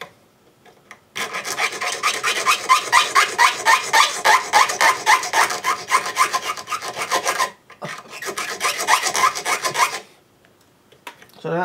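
Fret wire clamped in a vise is filed square at the end, a loud, close rasping file stroke repeated in a steady back-and-forth rhythm, pausing briefly before a second run of strokes and then stopping.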